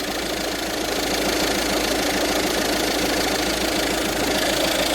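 A car engine idles steadily during an antifreeze change, as the coolant level drops and gets topped up. The hum is loud and close, with a continuous, even drone and no talking.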